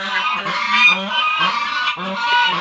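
Geese honk loudly and repeatedly up close, a raucous, overlapping chorus of nasal calls with no pauses.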